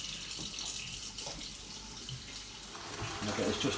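Warm water runs from a tap into a bowl while a thermostatic bath tap unit is being repaired, a steady broadband hiss of flowing water filling the basin with a slight rise in level near the end.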